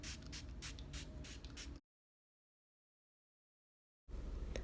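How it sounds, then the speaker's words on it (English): Makeup setting spray is misted in several quick hissing bursts, close and crisp, followed by a silent gap and then another spray. "You don't want to forget to spray at the end"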